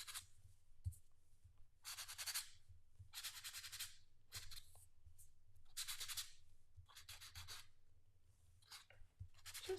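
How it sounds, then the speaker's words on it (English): Sandpaper rasps across two-tone cardstock in repeated short bursts of scratchy friction, close and fairly quiet, with brief pauses between strokes and no talking. "Now you can sand as much as you like. I'm just doing a little bit here."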